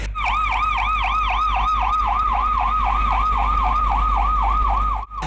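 A loud wailing siren from a new ambulance cycling up and down in a fast, steady warble, close by and continuous, with a low engine rumble underneath.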